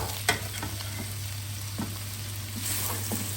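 Carrots cook in a pan with a trickle of honey, giving a soft steady sizzle with a few light scrapes and taps as the pieces are stirred around, close and quiet, with no talking.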